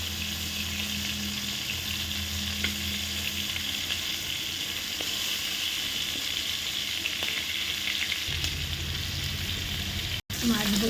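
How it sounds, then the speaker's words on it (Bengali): Prawns sizzle and fry steadily in a hot pan, with a continuous loud crackling hiss and a brief clatter as they are turned over near the end. "আঁচটা কমিয়ে দিয়ে মাছগুলো এবার অপর সাইড ভাজবে, উল্টে দেওয়া হলো"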